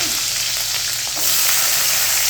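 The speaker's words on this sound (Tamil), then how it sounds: "நல்லெண்ணெய் போட்டு வெந்தயம் கொஞ்சம் போட்டு அதுலேயே கொஞ்சம் கடுகு போடும்" Mustard seeds and fenugreek frying in hot sesame oil for a bitter gourd tamarind curry, a dense, loud, continuous sizzle up close that swells slightly halfway through, with no voices.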